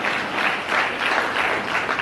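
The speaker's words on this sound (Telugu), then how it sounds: "గట్టిగా చప్పట్లు కొట్టండి" A seminar audience breaks into steady clapping that fills the room for a couple of seconds, a dense patter of many hands with no speech over it.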